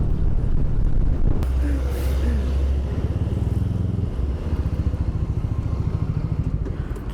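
Motorcycle accelerating along a road, a loud, close engine rumble that pulses steadily under wind noise.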